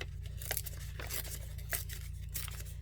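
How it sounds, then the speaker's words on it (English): Paper torn by hand for an art journal, a series of short rough ripping bursts against a steady low hum, close and fairly quiet. "So we're just going to kind of rip like this."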